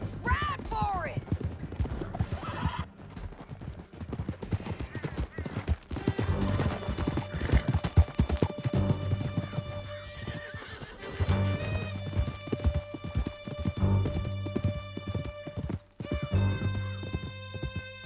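Horses galloping and snorting in the video game Red Dead Redemption 2 during a canyon escape, heavy hoofbeats rumbling under sustained music, with voices and a whinny breaking through.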